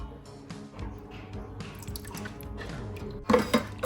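Bottles are lifted out of hot water and drip back into it, giving a close run of wet drips and squishy splashes that ends in a brief louder splash.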